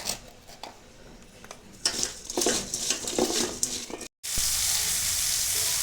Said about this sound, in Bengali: চিংড়ি মাছ এভাবে লাল লাল করে ভেজে নিয়েছি।